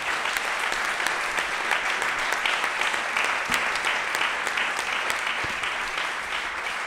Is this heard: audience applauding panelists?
yes